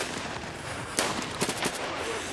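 Shotgun blasts from Escape from Tarkov: two or three sharp close reports over a busy, noisy game backdrop, the loudest near the start and a quicker pair following.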